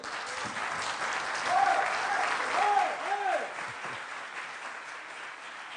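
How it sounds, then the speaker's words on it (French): An audience applauding the mayor at an industry conference, steady clapping filling the room for several seconds while a voice talks over it. "On peut l'applaudir."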